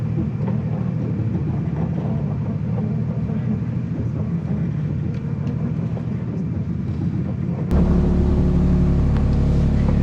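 A 2024 Toyota Tundra TRD Pro crawls off-road on crawl control with no pedal input and an unhappy front end. A steady, close, low engine drone and rumble shifts to a heavier, louder rumble near the end.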